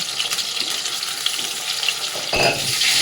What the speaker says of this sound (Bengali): এটা লাল লাল করে ভেজে নেবো চিকেনগুলোকে